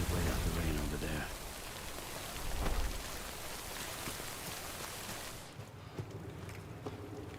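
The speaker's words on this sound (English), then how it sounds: "You wait out the rain over there." Steady rain falling in the video game Death Stranding Director's Cut, a dense broadband hiss that fills the scene, softening for the last couple of seconds.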